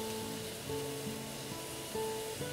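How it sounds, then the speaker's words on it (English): Zucchini sauteing in a pan: a faint, steady hiss of sizzling liquid evaporating, with low kitchen hum underneath. "That's starting to sizzle."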